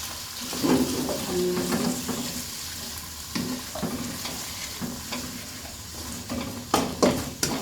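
Squid and salted egg stir-fried in a pan, giving steady close sizzling with scraping spatula strokes and sharp clacks against the pan throughout.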